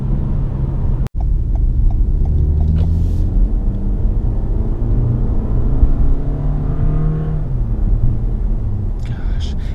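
Steady engine rumble from a 2018 Toyota Camry XSE with a four-cylinder engine while driving, a smooth continuous drone with road noise throughout and a brief thump near the start.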